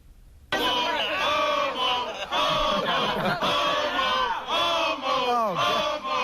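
A rowdy crowd jeers and heckles a man, loud overlapping shouts and taunts that burst in abruptly after a brief quiet moment and carry on in waves, close and raucous.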